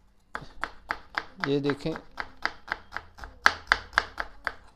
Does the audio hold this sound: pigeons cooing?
no